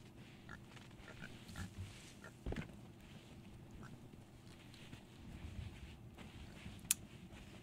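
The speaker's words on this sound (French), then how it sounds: "Ah, un cochon." Pig in the pirate video game Sea of Thieves, grunting in a few short low snorts over steady ambient game noise and faint water, with no talking.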